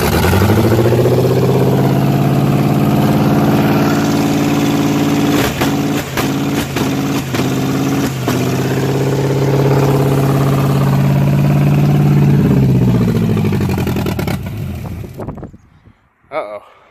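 A small-block Chevy V8 fitted in a BMW E36 drift car idles high and loud on its first start, a steady deep rumble with a few sharp revs or clicks midway, before shutting off; a voice is heard near the end.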